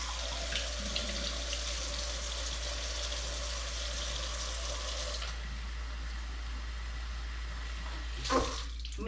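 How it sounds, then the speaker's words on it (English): Tap water runs steadily into an old bottle held in a sink, a continuous close hiss and splash for about five seconds, then a quieter trickle and a brief clunk near the end. "And then you just keep rinsing it out until all the bubbles and such are gone."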